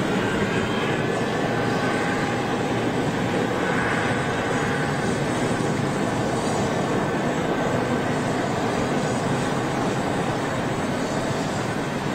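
At Schiphol, a big jet taxis out and departs, its broadband engine roar steady and powerful at middle distance, a dense, continuous rumble with no talk over it.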